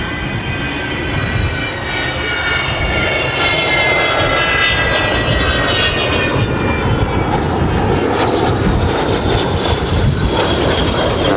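An Avro Vulcan bomber's jet engines at the RIAT airshow give a loud, continuous roar with a rising whine layered on top, steady throughout and unbroken by talk.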